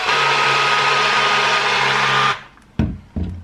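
A Blendy GO portable blender whirs at a steady high-pitched motor drone while mixing a shake, then cuts off abruptly, followed by two short knocks or clatters.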